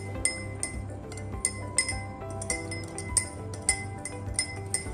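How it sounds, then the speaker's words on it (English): A metal spoon stirs salt into a glass of water, clinking against the glass in a steady series of sharp, close taps while no one speaks. "I am going to stir 1 glass and leave the other one undisturbed."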